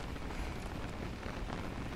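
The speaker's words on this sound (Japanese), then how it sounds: "雨か。" Steady rain falling in the survival game Don't Starve: Reign of Giants, a dense, even wash of patter that holds at a constant level throughout with no voices.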